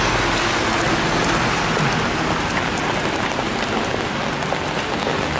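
Heavy rain pours onto Kutuzovsky Prospekt, a wide city avenue in Moscow, making a dense, continuous hiss of drops on pavement, loud and even throughout, with no voices.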